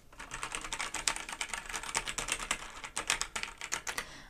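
Rapid, steady typing on a Razer BlackWidow 2014 Stealth Edition mechanical keyboard, keys bottoming out in a dense stream of crisp, close clacks with no talking.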